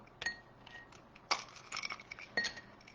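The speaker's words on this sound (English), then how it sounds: "now, I am going to pop a couple of ice cubes in here" A couple of ice cubes clink into a glass as a drink is made at a kitchen counter, giving several light, bright taps spread over a few seconds, faint and close with no talking.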